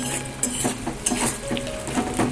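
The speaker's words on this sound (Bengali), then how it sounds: "এই ছোটো কড়াইটা বসিয়ে তারপর আমি এর মধ্যেই তেলটা ভেজে নিচ্ছি" Oil heating in a small wok (kadai) on a home stove, a soft steady sizzle with a few sharp metallic clinks and scraping taps against the pan, close and fairly loud, with no talking.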